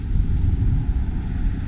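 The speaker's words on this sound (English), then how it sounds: "Pardon the road noise." Steady low road rumble from a moving 2016 Hyundai Sonata, constant and fairly loud throughout, with no speech over it.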